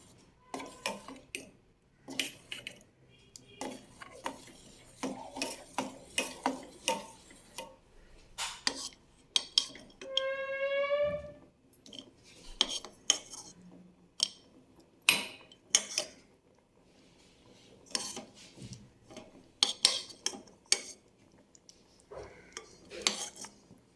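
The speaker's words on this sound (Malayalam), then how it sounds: "പഴം ഇട്ട് കൊടുത്തിട്ട് നമുക്ക് നന്നായിട്ട് ഇളക്കി യോജിപ്പിക്കാം" A spoon scrapes and clinks against a metal pot while banana is stirred into payasam, irregular taps and knocks spread across the stretch with quiet gaps between them and no talking.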